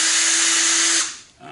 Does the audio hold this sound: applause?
no